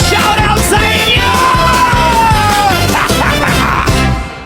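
Crowd at a jolly live concert anthem yells and whoops continuously over loud pounding music with a steady thumping beat, near and dense throughout.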